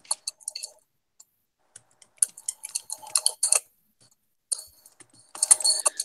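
Keys on a keyboard are tapped in short, irregular bursts of crisp clicks, with pauses between the flurries and a denser run at the end. No one speaks.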